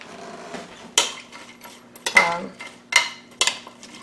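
Utensil stirring an egg and almond milk mixture in a bowl, with several sharp clinks and taps against the dish spread irregularly over a few seconds, close and fairly clear.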